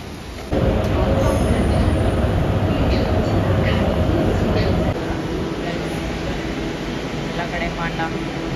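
Chongqing metro train riding through the subway, giving a steady, loud rumble and hum that stays constant throughout, slightly quieter in the second half, with faint background voices.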